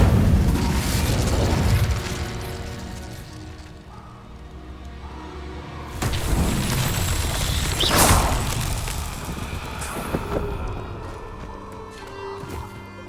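Fire spell blasts from Hogwarts Legacy, a few loud whooshing bursts with booming impacts spread across a busy battle soundscape, with faint music and effects underneath.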